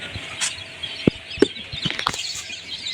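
Young quail chicks, about twelve to thirteen days old, kept in cages, give a few brief sharp peeps and chirps close by over a soft rustling background.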